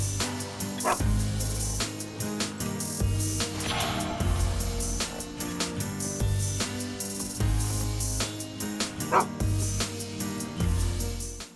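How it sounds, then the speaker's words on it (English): Dogs at a ranch in the Red Dead Online video game bark repeatedly in an irregular rhythm, fairly close and loud, with some yips mixed in over the game's background sounds. "These dogs are actually here to chase off any bears in the area."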